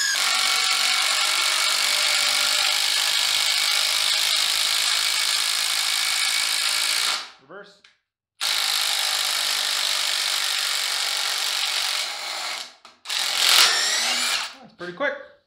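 A Hart cordless drill with no variable speed runs flat out with a loud, steady high whine, cuts off briefly, then spins up again, ending in short rougher bursts as it stops.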